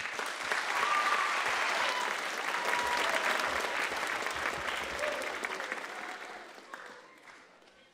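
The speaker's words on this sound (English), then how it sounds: "Let's give Harbor Corral a big round of applause." A choir audience at a campus concert breaks into a big, sustained round of applause that swells early, holds steady for several seconds, then thins and fades toward the end.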